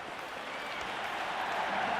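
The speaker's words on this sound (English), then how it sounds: "The crowd is electric right now." A cricket stadium crowd cheers in a cricket video game set at an IPL match, a steady dense roar of cheering and applause that swells slightly toward the end.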